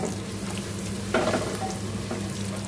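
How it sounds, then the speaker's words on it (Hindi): Whole spices, bay leaf among them, frying in hot oil for Punjabi yakhni pulao, a steady close sizzle with brief stirring scrapes partway through. "और इसको थोड़ा सा ऐसे साथ साथ भूनते रहेंगे ताकि ये नीचे ना लगे"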